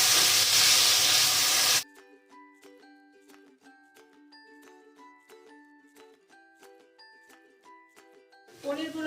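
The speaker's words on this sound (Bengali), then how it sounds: "এবার আমি পনিরগুলো আগে ভেজে নেব।" Paneer frying in a pan gives a loud, dense hiss at the start. It drops out for a long passage of tinkling musical notes, and the sizzle returns briefly at the end.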